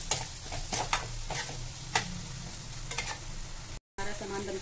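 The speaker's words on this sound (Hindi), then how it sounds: "अब हम इन सब चीज़ों को अच्छे से मिला देंगे और इन्हें मिक्स होने तक" Poha spices sizzle and fry in an oily pan while a spoon stirs and scrapes repeatedly, with a steady crackling hiss and rhythmic clinks and a brief silence near the end.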